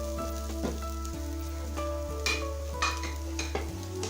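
Minced chicken tossed into masala in a hot pan sizzles steadily while it is stirred, with occasional spoon scrapes and taps partly masked by steady background music.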